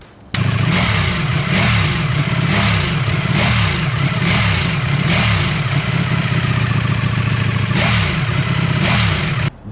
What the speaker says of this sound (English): This thing has rear cylinder deactivation, so when you put it in neutral, it sounds kind of like